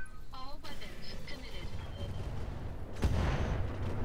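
A long-range missile barrage fires in the mech game Roguetech, a loud close rumbling burst of launches and booms, preceded by brief faint game sounds with a voice underneath.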